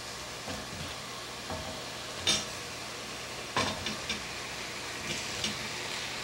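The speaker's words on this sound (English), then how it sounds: "And then add the potatoes." Quartered baby potatoes tipped into a pan of simmering tomato gravy, giving a few soft clattering drops and stirring noises over a low, steady sizzle, with no talking.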